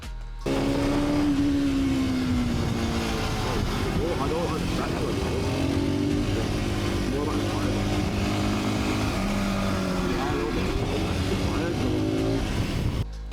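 An Aprilia RS125 two-stroke motorcycle is ridden steadily, its engine droning loud and continuous with slight pitch swells as it changes revs, while someone talks over it throughout.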